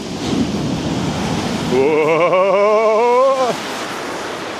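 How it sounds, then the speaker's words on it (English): Big ocean surf breaking on Chesil Beach, a loud steady roar of waves with heavy wind noise on the microphone, while a man nearby lets out a drawn-out exclamation partway through. "we've got quite a big surf going on"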